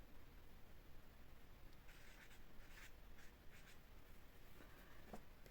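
Marker or pen strokes drawing on a board, a series of short scratchy rubbing bursts over steady background hiss, fairly quiet and close.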